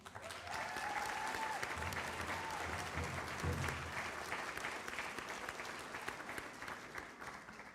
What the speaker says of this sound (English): Big round of applause to Raven